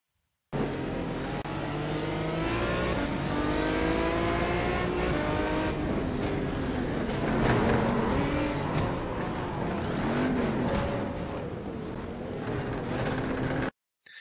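Onboard race car engine on the first lap of a race, loud and continuous, with rising and falling revs through gear changes and a dense, harmonic roar that holds steady for the whole stretch before cutting off.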